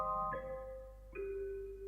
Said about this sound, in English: I then added this bell from KONTAKT.